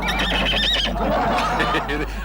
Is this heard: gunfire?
no